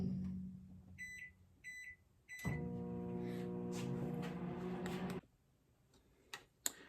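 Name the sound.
microwave oven heating plastic for stick baits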